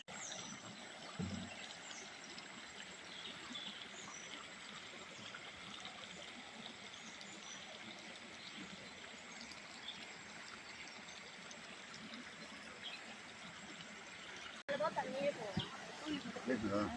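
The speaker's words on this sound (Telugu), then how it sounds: "Narayanavanam water falls" Waterfall at Narayanavanam pours in a steady, broad rushing wash that holds evenly throughout, with faint birdsong above it and a brief louder jolt near the end.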